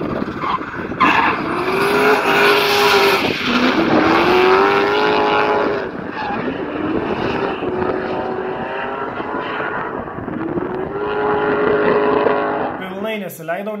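A race car on a hill-climb course runs downhill, its engine revving loud and close. The engine pitch climbs and falls repeatedly as the car shifts gears and changes speed, and a sharp burst closes the run.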